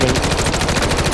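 MCW rifle fitted with a conversion kit fires a rapid full-auto burst in Call of Duty, close and loud, shots hammering in an even fast rhythm with no voices.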